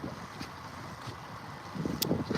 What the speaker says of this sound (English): It just got weirdly windy